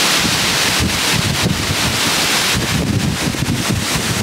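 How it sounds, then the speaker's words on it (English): Strong hurricane wind buffeting outdoors, a loud, continuous roar with gusting surges and heavy rumble across the whole clip, no voices present. "Oh yeah, that's strong wind right there"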